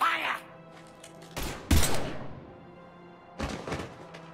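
Gunfire in the video game Mass Effect 3 comes as a few sharp, punchy bursts of shots separated by short quiet gaps.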